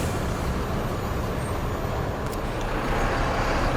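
A bus edges toward the gate of a bus depot, a dense, steady wash of engine and traffic noise heard from a moderate distance, with a faint brief hiss partway through.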